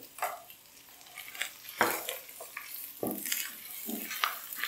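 Ginger garlic paste and whole spices stirred in a pot over browned onions: scattered spoon scrapes and metal clinks over a soft sizzle, close and moderately loud.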